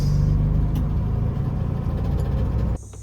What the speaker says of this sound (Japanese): キーをひねって押すだけでエンジンかかります。